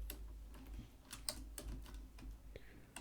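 Typing on a computer keyboard while entering a SQL query in MySQL Workbench, a steady run of quick, soft key clicks at close range with brief pauses and no talking.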